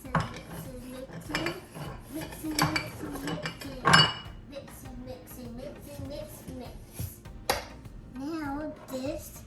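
Gingerbread cookie dough being mixed in a bowl by a child baker, with repeated clinks and scrapes of a utensil against the bowl, under children's chatter and talk throughout.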